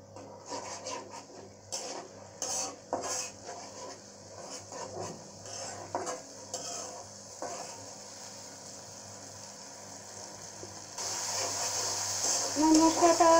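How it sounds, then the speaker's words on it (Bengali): Spice paste with ginger-garlic paste being fried and stirred in a pan for an okra and mustard dish, irregular scraping strokes over a low sizzle, then a louder, steadier hiss near the end. "আমি মশলাটাকে একটু কষিয়ে নিব।"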